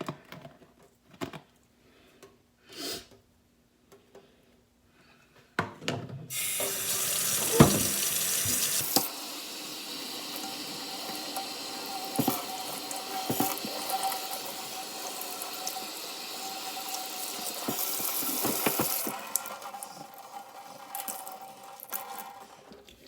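Tap water runs while hair is rinsed at a sink, starting after a few scattered knocks and settling into a steady close gush with splashy surges that tapers off near the end.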